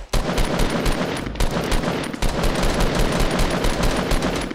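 Rapid automatic gunfire from the video game Fortnite, aimed at bringing a tree down, rattles on without a break for the whole stretch, loud and close and dense, with a short dip partway through.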